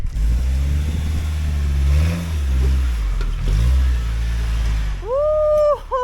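A Suzuki Samurai's small engine labours and revs up and down as it climbs a steep rock trail, loud and close, with rising and falling pitch sweeps and a sharp high squeal near the end.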